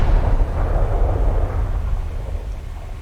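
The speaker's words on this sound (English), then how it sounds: "Torpedo impact. I see a torpedo impact on the enemy ship." A torpedo strikes an enemy ship in War Thunder, fired from a Yugumo destroyer with long lance torpedoes, producing a loud, heavy, rumbling explosion that rolls on and slowly fades.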